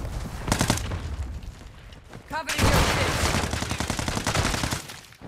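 Rapid gunfire crackles in Call of Duty: Modern Warfare II, loud bursts of automatic shots and a heavy boom, with voices calling out over the combat.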